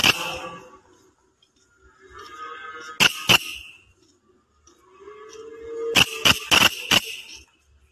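A Malaysian giant grasshopper gives off sharp clicking bursts that sound like a camera shutter. A few clicks come near 3 s and a quick cluster of about five near 6–7 s, close and loud over soft rustling background.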